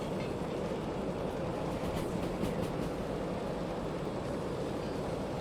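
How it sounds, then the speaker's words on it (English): A heavy, overloaded freight train in the Derail Valley game rolls with a loud, steady rumble, and a brief cluster of clanking knocks rises midway through. "That sounded like a derail noise."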